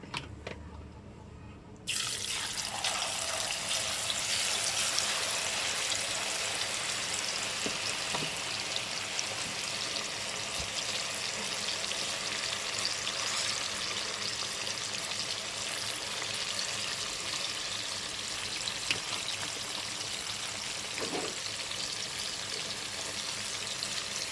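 A steady, loud hiss and crackle of tuna frying in hot oil for pickle starts abruptly and sizzles continuously, with occasional small pops.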